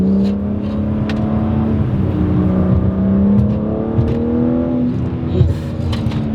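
A 2025 BMW M3's engine and exhaust rev up and settle repeatedly, a loud, smooth harmonic note rising and falling close by with no talking over it.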